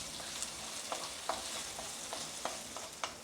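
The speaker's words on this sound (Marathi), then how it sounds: "कांदा सुद्धा मी असा परतून घेते थोडासा ब्राऊन कलर येईपर्यंत परतून घ्यायचा" Onion sautéing in a pan for moong dal chilla, softening toward light brown: a steady quiet sizzle with several sharp spatula scrapes and taps at irregular intervals, no voices.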